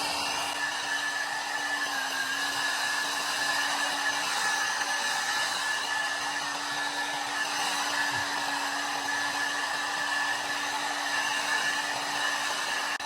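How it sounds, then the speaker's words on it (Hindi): A hair dryer blowing on hair runs continuously at close range, a steady whirring hum with a constant airy hiss and faint tonal whine throughout. "अब हम हेयर ड्रायर से बाल ड्राई कर रहे हैं।"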